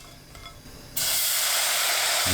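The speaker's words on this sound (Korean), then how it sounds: "냄비에 손질한 국물용 멸치 10마리 넣고 센 불로 1분 볶습니다." Dried soup anchovies are stir-fried in a pot over high heat. After a quiet second with a brief spoken word, a loud, steady sizzling hiss starts abruptly and continues.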